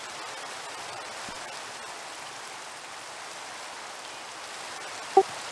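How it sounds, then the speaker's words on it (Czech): Minecraft rain falls as a steady, soft hiss of drops throughout, with one brief click near the end and no talk. "Zase prší, bože. Bože, vypni ten déšť."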